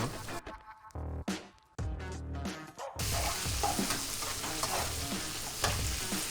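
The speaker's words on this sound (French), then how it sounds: "On saisit correctement les légumes et on renverse la viande à l'intérieur" Vegetables sear in a hot pan with bursts of stirring and scraping at first, then a dense, continuous loud sizzle that carries on to the end.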